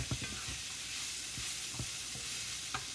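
Rice toasting with onions in a pan for risotto, a soft continuous sizzle broken by a few short scraping stirs, close and quiet, with no voices.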